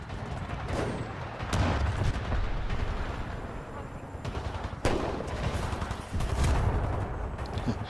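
Heavy Titan weapons fire from an Ion and a Legion in a Titanfall 2 multiplayer battle, with repeated booming bursts and rumbling explosions layered under continuous gunfire, loud and close.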